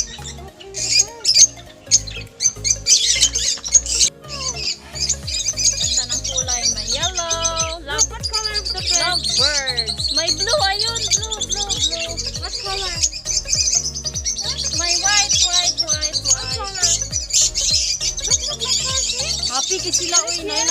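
Many farm birds squawk and chirp up close in a lively, continuous chorus, while people talk over them at intervals.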